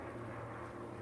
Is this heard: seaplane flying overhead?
yes